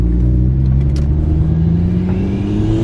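A turbocharged Ford Falcon FG fitted with a new intake revs loudly up close, its deep engine drone rising steadily in pitch over about three seconds with no talk.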